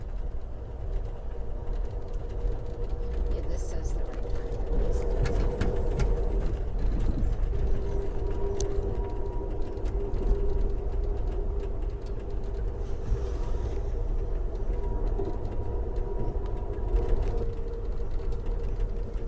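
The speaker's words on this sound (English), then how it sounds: "Later, we catch a freight train made up of hopper cars." A freight train made up of hopper cars passes with a steady, loud rumble and rolling clatter throughout, a few faint bird calls above it and a brief remark spoken once.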